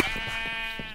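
A sheep in the video game Minecraft gives a single short bleat, close and clear, with nothing else around it.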